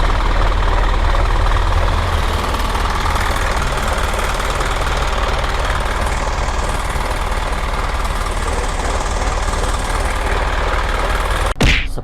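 An Isuzu FRR 210-horsepower diesel truck engine idles loudly and steadily with a rough, knocking rumble, close by, ending with a brief sharp clunk.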